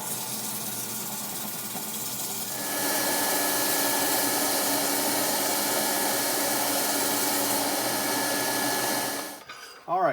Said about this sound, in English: See if we can get her sanded up just a little bit here.